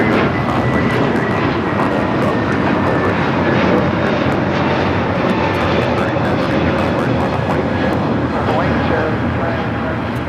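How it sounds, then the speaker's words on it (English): A JetBlue Airbus A321neo takes off from LAX bound for JFK. Its engines give a loud, continuous, broad roar that fills the whole stretch without letting up. "724 taking off to JFK on the A321neo"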